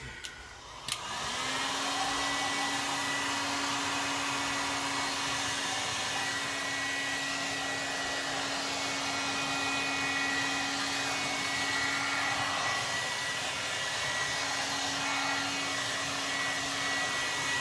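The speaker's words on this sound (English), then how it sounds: "you really need a heat gun" A heat gun blows on resin with a steady, loud whir and a fixed hum tone that holds throughout, starting with a click near the beginning, no voices.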